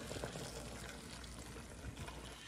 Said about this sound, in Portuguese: Aqui, ó, vou colocar água quente.